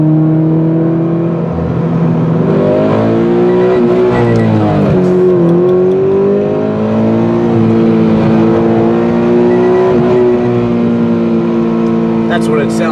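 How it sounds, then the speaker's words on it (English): A Toyota 86 engine revving up and holding near its rev limiter, a loud steady drone with rising and falling pitch while cruising, heard from inside the car with someone talking over it. "That's what it sounds like when the rev limiter kicks in."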